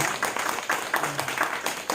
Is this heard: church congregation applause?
yes